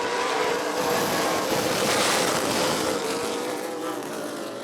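ARCA Midwest Tour stock cars race at Rockford Speedway, their engines blending into one loud, sustained roar that swells and eases slightly as the pack passes, with no voices.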